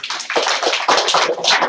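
Audience applause at a game development meetup, a burst of many hands clapping loudly and close for a couple of seconds with no talking.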